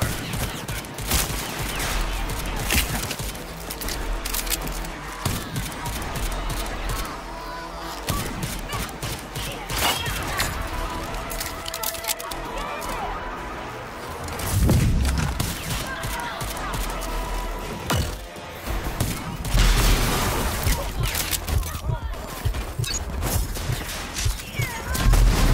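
Pistol gunfire in the video game Rage 2: rapid, repeated shots and impacts packed closely across the whole stretch, loud and dense amid other game effects and booms.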